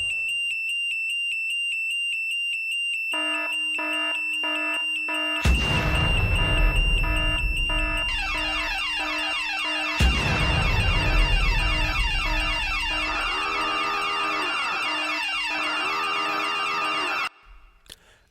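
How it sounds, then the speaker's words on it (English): A synthetic alarm sound effect plays loud and alone: repeating electronic beeps build into layered siren tones with two heavy booming hits, cycling steadily before stopping abruptly. "I'm gonna set off the whack track alarm"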